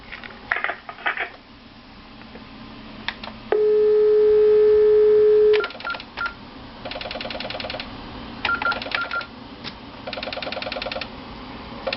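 Telephone line tones during a call to a prosecutor's office: a long steady tone, then bursts of rapid repeating beeps, with clicks and faint background noise between them.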